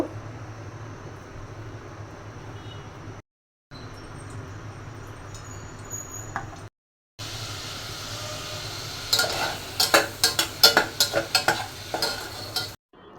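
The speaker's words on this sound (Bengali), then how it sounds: "আনারসটা ঘিয়ের সাথে ভেজে এখন চালটা দিয়ে দিলাম।" Pineapple frying in ghee in the same pot used to boil rice: a low steady sizzle, then louder stirring scrapes and crackling bursts toward the end, with brief silent gaps between.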